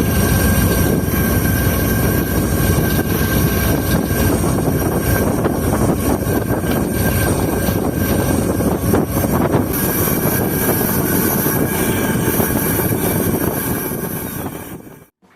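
A train locomotive shunts at Habib Kot Junction in Shikarpur District, changing direction to couple onto the front of the Moen Jo Daro Express, giving a loud, continuous diesel engine roar close by that fades out at the very end.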